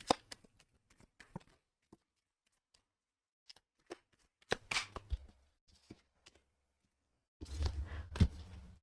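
Tarot cards are shuffled and pulled in sparse bursts of crisp riffles and soft taps separated by quiet gaps, ending in a louder flurry of shuffling near the close.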